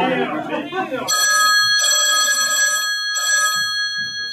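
A telephone rings in a French stage comedy: a bright electronic ring in two or three repeated bursts, coming in just after someone speaks, with faint talk and background noise between rings.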